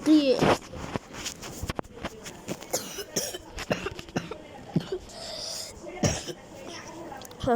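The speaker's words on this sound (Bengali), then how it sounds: "খুব কাশি হয়েছে আমার" Person with a heavy cough, repeated close hacking coughs scattered across the clip in short bursts, mixed with speech.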